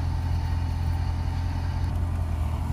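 Mercedes CL63 AMG V8 with its resonator deleted, heard as a steady, loud, low exhaust rumble close by, holding constant without a distinct rev rise.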